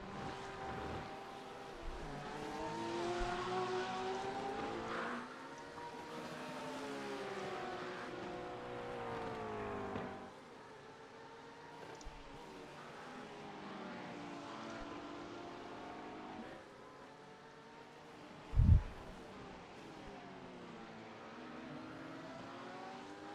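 Race cars lapping Laguna Seca in a racing video game, engine notes rising and falling through gear changes over about twenty seconds, moderately quiet, with a brief sharp thump near the end.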